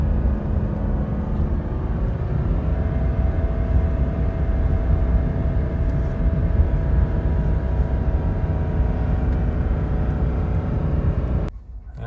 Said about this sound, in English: The truck's gearing down and using the exhaust brake. You can hear it.